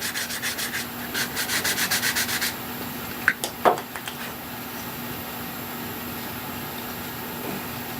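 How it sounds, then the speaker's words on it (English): Sanding block rubbed over the burred edge of a hinge pocket part, a quick run of rhythmic scraping strokes followed by a few sharp scuffs, then quiet background hum. "We'll take off the burrs on the edge with a sanding block so we can see what we've got."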